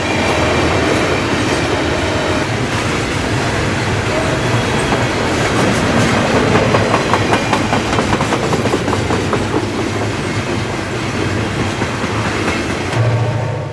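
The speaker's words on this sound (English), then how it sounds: "A train of double stacks climbs the same eastbound grade at Lilli." A heavy double-stack Conrail freight train climbs an eastbound grade at Lilly close by, a loud steady rumble with rhythmic clattering of wheels over rail joints throughout.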